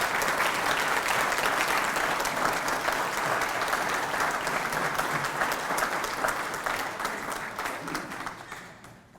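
Sustained audience applause at an awards ceremony, a dense, steady wash of many hands clapping in a hall, holding for several seconds before gradually tapering off.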